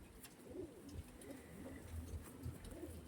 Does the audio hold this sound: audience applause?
no